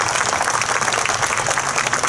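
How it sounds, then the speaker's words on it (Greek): A crowd at a Greek choral festival applauds warmly, a thick, continuous roar of clapping hands that stays full and even for the whole stretch, with no speech over it. "Ένα θερμό χειροκρότημα παρακαλώ."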